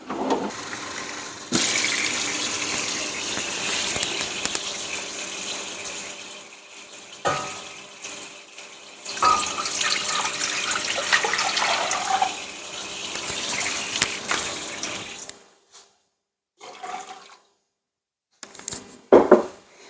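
Water runs steadily from a tap for several seconds, hissing and splashing into a container as five cups are measured for oatmeal, then stops, leaving brief quiet handling noises.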